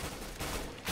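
A short, dense burst of gunfire in the game CS:GO, loud and close, over about a second of noisy combat sound.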